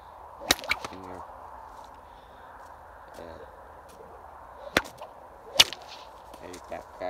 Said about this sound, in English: your back crack will ring your ears very loudly